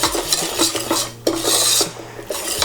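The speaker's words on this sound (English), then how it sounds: "you want to add the flour to it and just mix it in" Flour is stirred into melted butter in a pan for lasagna sauce, making close, loud rasping scrapes of a utensil against the pan in short strokes.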